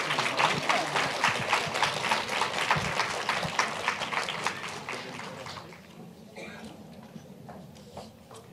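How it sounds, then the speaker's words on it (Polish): Applause from a competition-final audience: a dense burst of many hands clapping loudly and steadily for about five seconds, then thinning and fading to a few scattered claps and faint room noise. "Wielkie brawa jeszcze raz."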